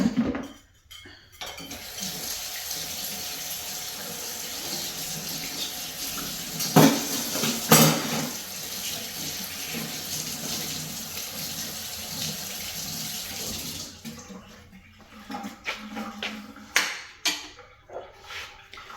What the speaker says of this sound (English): Alright, I'm gonna rinse this. This will go over here and wash this.